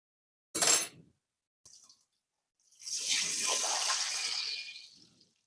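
A pea kachori slides into hot oil in a kadai. After a couple of brief knocks comes a hissing burst of frying that swells and holds for about two seconds, then fades.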